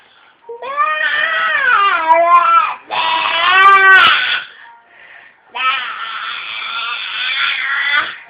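A young child imitates a goat's bleat with long wavering, crying-like voiced calls in three loud bursts, close to the microphone.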